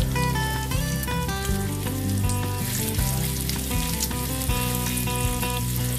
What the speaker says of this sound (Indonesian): Oke, kita tumis, kita aduk.